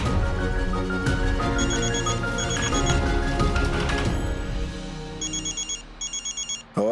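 A mobile phone ringtone plays over a music-heavy dramatic background score, its repeated melodic chirps becoming clearer and pulsing in short bursts near the end as the music drops away.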